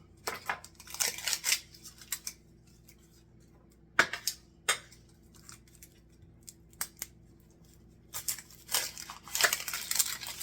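A knife chops an onion on a board in quiet bursts of quick close cuts separated by pauses, faint overall with no talking.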